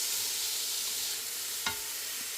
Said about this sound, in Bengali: খড়াইতে সরিষার তেল দিয়ে পেঁয়াজটা ভালো করে ভাজবো